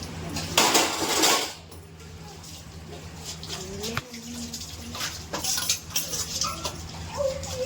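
Dishes, pots and pans clatter and clink at a kitchen sink during scrubbing and washing, with steady running water and a loud burst of metal scraping at the start. Birds coo softly in the background.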